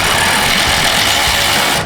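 A power ratchet runs in one continuous close, loud whir, tightening the nuts on cheap eBay racing coilovers, and cuts off abruptly at the end.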